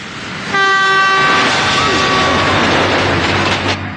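A train rolls past close by, its loud horn blaring for about a second before the steady rumble and clatter of the wagons carries on.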